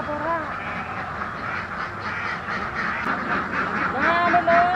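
Ducks quack steadily near a duck pen in a village, a dense chorus of close, overlapping calls over outdoor noise, with a person talking in the background.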